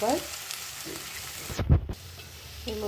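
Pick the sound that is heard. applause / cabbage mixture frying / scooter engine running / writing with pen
cabbage mixture frying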